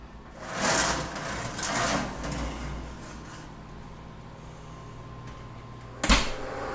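A home oven door opens and shuts while a tray of potatoes is loaded for dehydrating. Muffled clunks and rattles come early on, then after a quiet stretch a sharp, close bang as the door closes.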